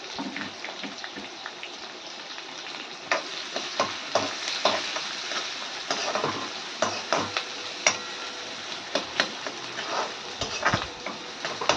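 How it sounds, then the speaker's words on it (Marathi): Chopped onion and green chillies sautéing in a pan for a besan pitla dish, a steady sizzle with repeated sharp scrapes and clicks of a spoon stirring against the pan, close and fairly loud. "परतून घ्यायचा कांदा छान."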